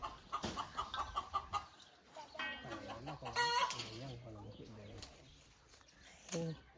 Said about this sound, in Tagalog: Na manok.